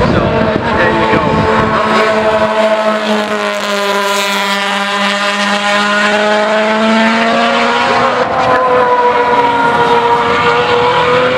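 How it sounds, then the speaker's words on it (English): High-revving exhaust note from exotic hypercars such as a Lamborghini Murcielago LP640 on a racetrack, a loud sustained engine wail that climbs and sweeps in pitch as the car passes close, with wind buffeting on the microphone. "let the folks hear some of the exhaust notes on these exotic and hypercars"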